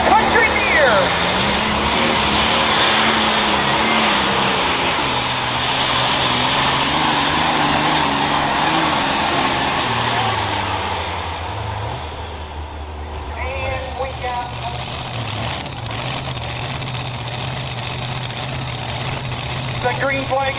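Loud, roaring pulling-tractor engine at an OSTPA truck and tractor pull at the Hartford Fair, a tractor campaigned since 1985, droning steadily and then dropping off, with an announcer talking over it.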